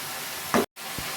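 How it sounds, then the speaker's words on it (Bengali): Water splashed into dal cooking in a pan, a short sizzling hiss and stirring scrape up close, followed by a brief dead gap and a soft clink. "আমি একটু জল দিয়ে দিচ্ছি একটু ভালো করে নেড়ে দিচ্ছি"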